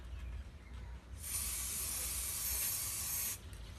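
A spray gun hisses paint onto a fiberglass Roman relief panel, a soft background hiss that swells into a strong, steady spray burst lasting about two seconds before stopping.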